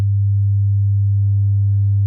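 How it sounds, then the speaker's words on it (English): A steady pure sine tone rendered as 16-bit digital audio, clean and constant at moderate loudness with no other sounds. "it'll sound like our ordinary sine wave."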